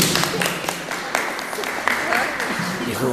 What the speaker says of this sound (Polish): gorące brawa za to Państwu